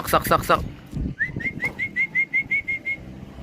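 A racing pigeon's repeated rising call, about ten short evenly spaced notes, comes after a brief burst of talk, clear and fairly close.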